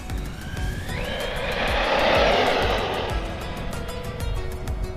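A Team Corally Kagama 6S RC car on a speed run gives a steady high electric whine that rises in pitch as it passes, swelling loudest midway and then easing, with no talking.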